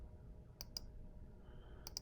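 Computer mouse clicks while opening Google Drive folders, a quick pair of crisp clicks followed by another quick pair, faint and close, against a quiet room background.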